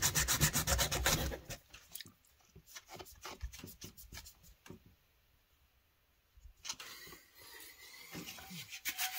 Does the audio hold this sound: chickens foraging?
no